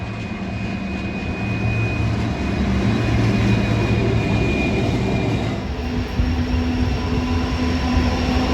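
Freight train hauled by an EMD 710 G3A turbocharged two-stroke V16 diesel locomotive passes Sandgate Station on the Hunter Line. A loud, steady rumble of engine and wagons holds throughout, with a faint high whine on top.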